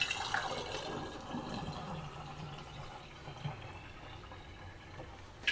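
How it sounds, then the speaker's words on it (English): Kombucha poured through a strainer into dark amber bottles, a soft steady trickle and splash of liquid, faint and close, with no one speaking. "Okay, so I'm going to pour this in here."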